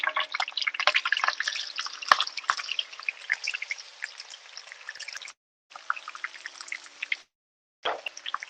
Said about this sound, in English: I'm gonna pour the shrimp in here